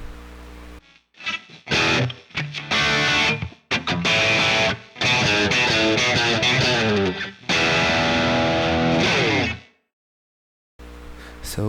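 Distorted electric guitar in a tone from a Hotone Ampero II Stomp, reverb on, plays rock chords and riffs with a roomy, spacious tail, pausing between phrases before ringing out into silence.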